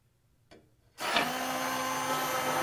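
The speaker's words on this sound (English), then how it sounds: "using a hand blender, I'm going to stir it" A hand blender blending butternut squash and coconut soup starts up with a click and runs steadily, a loud, constant whirring motor with grinding texture, close by and with no voices.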